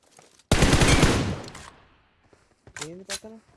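Gunfire in the PUBG battle royale game, a loud burst of rapid shots that fades out, followed by a few short bits of voice.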